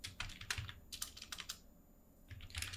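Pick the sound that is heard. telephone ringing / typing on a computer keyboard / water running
typing on a computer keyboard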